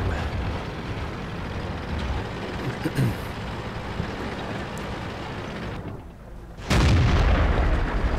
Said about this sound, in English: there's artillery shooting at me right now